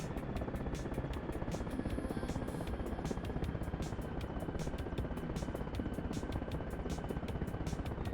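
An Mi-8 helicopter flying at full speed in Arma Reforger, a steady loud rotor thump and turbine whine with rapid regular blade slaps running throughout.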